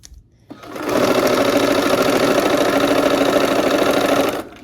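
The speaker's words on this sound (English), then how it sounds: "Okay, so we're gonna go ahead and sew." A sewing machine stitching fabric with pins, starting after a short pause and running in a fast, even mechanical whir for about four seconds before stopping.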